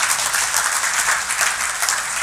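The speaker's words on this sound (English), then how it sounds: "Let's give him a big round of applause as well." Crowd applause at a golf tournament charity banquet, a steady wash of many hands clapping together, moderately loud and even throughout the short stretch with no speech over it.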